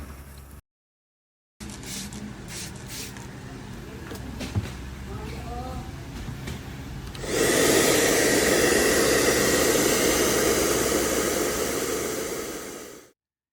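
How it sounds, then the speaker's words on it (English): A hairdryer switches on and blows loudly and steadily for several seconds, drying acrylic paint, before cutting off, following quieter handling noises. "dry the first coat with a hairdryer"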